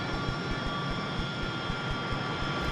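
An AV-8B Harrier jet engine runs steadily in the DCS flight simulator, a sustained whine and roar with a faint rhythmic low thumping pulse underneath, continuous and fairly close.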